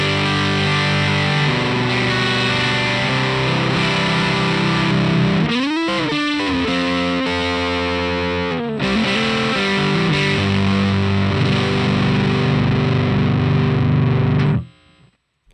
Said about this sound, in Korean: FG5는 세 가지 타입의 퍼즈 사운드를 모델링한 페달이고